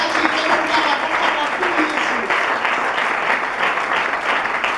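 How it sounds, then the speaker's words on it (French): A church congregation claps in sustained, dense applause at a worship service, steady and enthusiastic throughout. "J'aimerais qu'on acclame pour le Seigneur"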